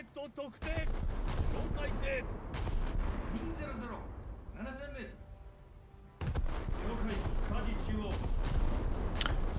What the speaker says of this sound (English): Shall we try and see if we can hit an SKR with these guns?